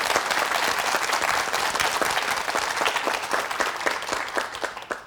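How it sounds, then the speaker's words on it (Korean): A studio audience on a Korean morning talk show claps steadily, with dense, even applause that stays loud for the full stretch and fades slightly at the end. "박수 한번 칩시다"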